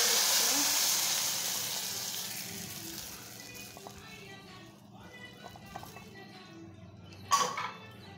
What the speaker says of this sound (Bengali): বাগারটা দিয়ে দিচ্ছি।